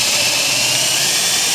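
A drill runs a VIX bit to bore a pilot hole for a hinge screw on a sawdust bin door, giving off a loud, steady, high-pitched whir from start to finish with no voices.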